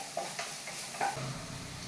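Onions sizzling softly in a pan for Kerala egg thoran, with a couple of quick stirring scrapes, faint and close with no talking.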